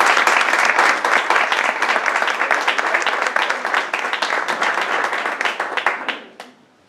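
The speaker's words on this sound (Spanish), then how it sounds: "Un aplauso." Audience applause at a book presentation in Barcelona for an anthology, dense steady clapping from a room of people, loud and sustained for about six seconds before fading out quickly.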